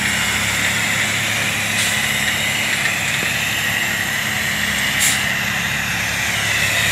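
A 2007 Sterling L9500 dump truck's diesel engine runs steadily as the truck pulls forward, a continuous loud low rumble with a faint hiss of air above it and no talking.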